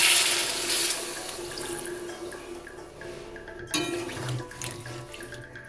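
Water poured into a pan of vegetable curry with drumsticks, pointed gourd and potato, a steady splashing and running stream near and fairly loud, then a brief thump and lighter trickles.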